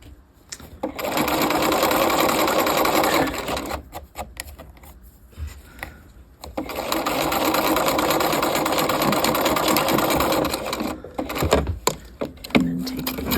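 Sewing machine back stitching an undercollar, running in two long steady buzzing bursts separated by a pause of handling and clicks, loud and close.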